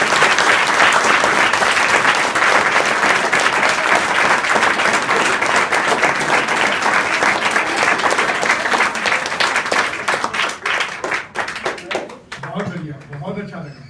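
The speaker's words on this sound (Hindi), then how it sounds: "ताली खुलकर बजाएं" Students at Mahajan Children Academy in Bardah, Azamgarh, give loud, sustained applause during a school workshop. It fades into a few scattered claps near the end.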